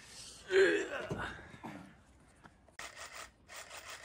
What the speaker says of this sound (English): We've got the reciprocating, mate. Oh yeah, I've got the saw.